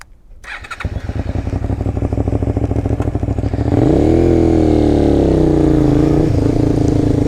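A Honda VTR 250 motorcycle rides off loud and close, its engine running at a steady rapid throb that climbs in pitch as it accelerates, then holds a sustained higher drone.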